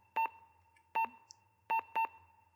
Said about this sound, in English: I hate these beeps.